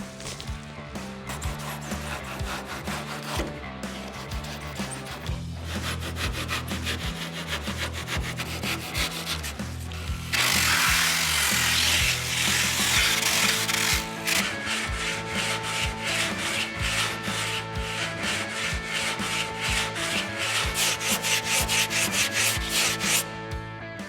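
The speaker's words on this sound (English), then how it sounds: "I've removed quite a bit of foam with the saw blade and the scuff disc" A reciprocating saw blade and a die grinder with a scuff disc shape foam during a classic Camaro build, giving continuous loud rasping and grinding with pulsing strokes and a harsher burst midway.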